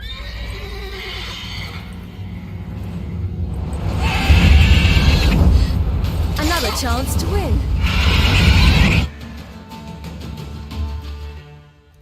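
A horse in The Witcher 3 whinnies loudly in the middle of the scene, a wavering neigh over steady game sound with voices speaking before and after.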